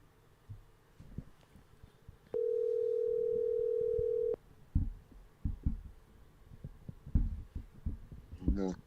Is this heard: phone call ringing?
yes